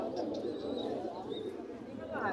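Pigeons coo at a busy pigeon market, soft low rolling calls repeating close by under a constant murmur of crowd noise and nearby talk.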